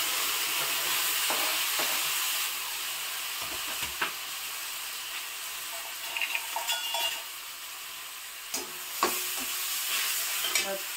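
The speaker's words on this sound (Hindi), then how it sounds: "और अब मैं डाल दूंगी ये सारे के सारे टमाटर" Tomatoes hitting hot oil in a pan of fenugreek curry, a continuous bright sizzle with scattered clinks and scrapes of stirring, heard alone without talk.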